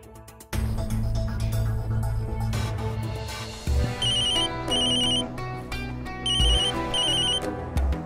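A telephone rings unanswered indoors, repeated bursts of an electronic ring sounding over steady background music with no voices.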